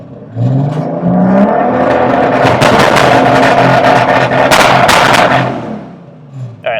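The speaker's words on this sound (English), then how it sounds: "So I'm going to bring my engine RPM up. I'm just going to start to rev it." A turbocharged BMW E46 M3 engine revs up with a rising whine, holds high and rough with crackling pops, then falls away; loud and close.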